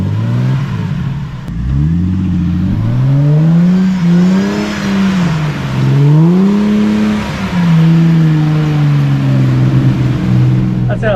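A big Jeep on 35-inch tires with a front locker climbs a steep, sloppy off-road track, its engine revving hard in long rising and falling surges. It is close and loud throughout.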